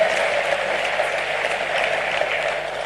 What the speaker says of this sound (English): could we have another round of applause for our keynote speaker